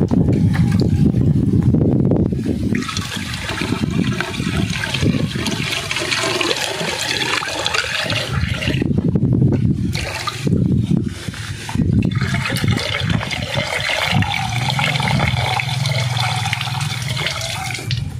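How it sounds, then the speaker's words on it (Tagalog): A water pump is primed and tested, sending a steady, loud rush of pumped water for the whole stretch, with the gushing surging and dipping and a low hum entering near the end. "is iti-testing na natin kung okay na yung water pump natin"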